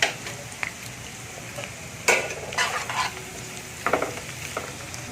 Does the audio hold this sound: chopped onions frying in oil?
yes